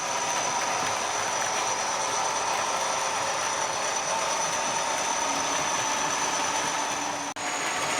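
Class 40 model locomotives hauling rolling stock around a model railway, a steady dense mechanical whir and rattle of motors and wheels on track, continuous and close throughout, with no talking.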